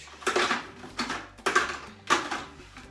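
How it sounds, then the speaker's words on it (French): Plastic lid and measuring cup fitted onto a Thermomix TM6 bowl, heard as three separate clattering knocks and twists spaced about a second apart, fairly close and fairly quiet, with no talking. "insérer le couvercle et le gobelet doseur"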